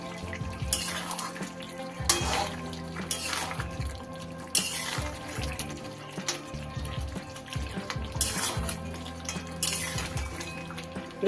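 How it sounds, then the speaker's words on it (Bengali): A spoon stirs chicken rezala in a cooking pot with ghee floating on top, giving repeated scraping and clinking strokes over a steady low simmering sizzle, with no talk. "এই অবস্থায় একটু নাড়িয়ে দেব।"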